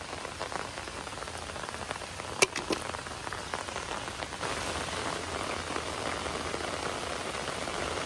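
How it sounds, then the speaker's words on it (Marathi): Rain falls outdoors in a steady, even hiss on the surfaces nearby, with one brief sharper knock partway through. "आता पाऊस लागलाय"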